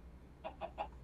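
A Minecraft chicken clucks three quick times in an even rhythm, fairly soft over a low background hum.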